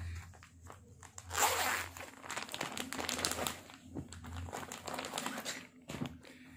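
Plastic packaging around a khaddar two-piece suit being opened and unwrapped, with close crinkling and rustling that rises sharply, then continues in uneven bursts of handling noise over a low steady hum, with no talking.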